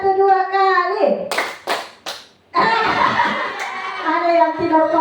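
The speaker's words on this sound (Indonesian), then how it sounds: "Tepuk 1, tepuk 2, tepuk 3, tepuk 1 2 kali." A group claps in short bursts, a few sharp volleys of hands separated by pauses, with children's voices talking around them.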